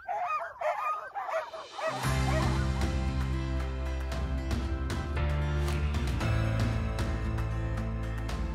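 Alaskan Husky sled dogs bark and yelp excitedly in a noisy chorus, close and loud, the clamor starting abruptly and continuing with overlapping yips and howls.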